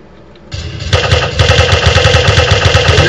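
An Uzi submachine gun in a zombie video game fires in loud rapid bursts after a short quiet start, the shots rattling on steadily and close with no pauses.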